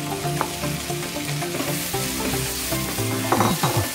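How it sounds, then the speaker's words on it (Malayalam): Fried bitter gourd going into a sizzling tomato masala, giving a loud steady frying hiss broken by scraping, clattering stirs near the end, and no voices. "അതിൻ്റെ ഇനി ഇതാ നമ്മൾ ഫ്രൈ ചെയ്ത് വെച്ചിട്ട് കായ്പക്ക ഇടാം"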